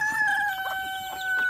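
Hens and young chicks in a freshly disinfected cage lined with leaves, giving soft close clucks and chirps alongside a steady high whistling peep over low background noise.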